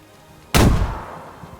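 A grenade explosion in the video game DayZ bursts suddenly and loudly close by, with a booming low rumble that decays over about a second.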